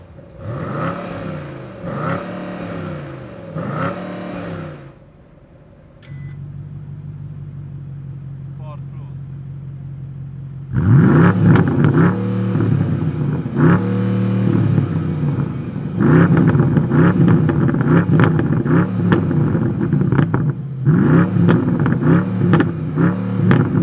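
A BMW M850i's engine idles low, then blips and revs loudly in repeated surges, close and dominant, with someone speaking over the rumble near the start.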